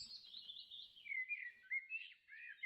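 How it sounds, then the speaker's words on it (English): Laughing kookaburras call in a run of rising and falling chattering cries, fairly faint and continuous, with no other sounds around them. "there's the laughing kookaburras"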